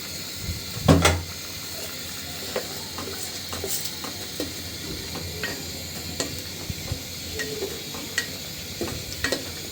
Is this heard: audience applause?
no